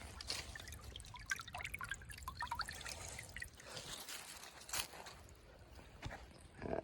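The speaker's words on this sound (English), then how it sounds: "Yeah, you see the water coming out there." Water trickles and drips out of an old, partly collapsed stone channel in a stream, a quiet irregular patter of droplets and small splashes heard alone, with faint outdoor noise behind.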